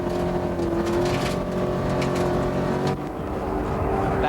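A loud Ford Mustang V8 race car engine roars steadily up close at high altitude on Pikes Peak, holding a strained, droning pitch before briefly dipping and climbing again.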